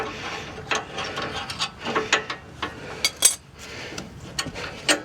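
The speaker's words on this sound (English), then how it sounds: "We're using an 18mm ratchet to break this loose." An 18mm ratchet breaks a bolt loose during a sway bar install, giving close, crisp clicking in short uneven bursts with brief pauses and no talk.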